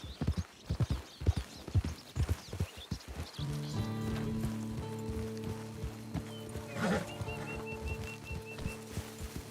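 Rapid hoofbeats of a galloping horse in the video game Red Dead Redemption 2, loud and rhythmic, give way to a sustained droning tone and a brief whinny-like cry.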